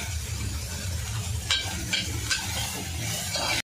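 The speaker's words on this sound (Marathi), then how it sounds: "बघा आपला कांदा चांगला फ्राय झाला आहे।" Onions frying with salt in a pan for a chicken curry, giving a steady, close sizzle with a few sharp stirring scrapes against the pan and no talking.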